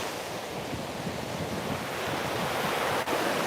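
Loud ocean waves surging onto the shore, bigger than usual, in a steady unbroken wash of surf with some wind buffeting the microphone throughout.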